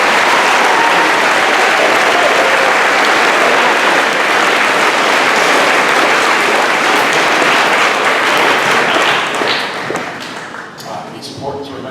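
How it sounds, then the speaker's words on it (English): Loud, sustained applause from a large audience at a middle school graduation ceremony, a dense wash of clapping that tapers off in the last couple of seconds. "if we can have a large, loud round of applause for the parents and the family members and the teachers"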